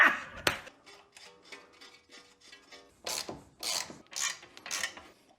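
Nuts being tightened during a Bilstein B16 coilover installation on a Porsche 911: a soft metallic tick and faint scraping, then several quick, loud ratcheting bursts in a steady rhythm, close by.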